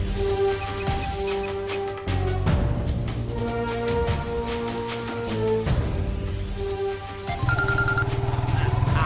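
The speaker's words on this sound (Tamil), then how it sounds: "பாரதி, ஒரு நிமிஷம் ஃபோன் பேசிட்டு வந்துடுறேன்" A mobile phone ringtone plays in a Tamil TV drama scene, a steady tonal melody with repeating chimes and a loud, unbroken presence running throughout with no voices over it.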